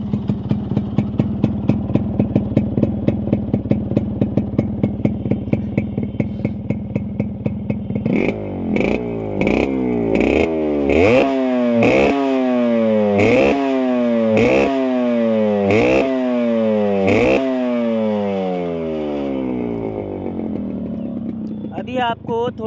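A Yamaha RX100 two-stroke motorcycle engine idles with a rapid, loud buzz, then is blipped through a series of sharp throttle revs that rise and fall repeatedly, recorded up close.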